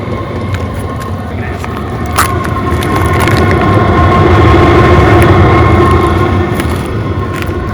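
A Chinese diesel heater starts up and runs, giving a steady low motor hum and fan whoosh that swells a little louder after a few seconds and holds constant, close by and with no talk.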